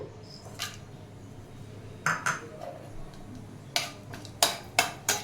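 Peppercorns, cloves and cashews drop into a pan for paneer pulao, with several sharp metallic clinks and taps, close and isolated over a quiet background hum.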